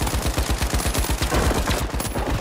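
Rapid automatic gunfire in the shooter game The Finals, a loud, steady stream of evenly spaced shots for the whole stretch.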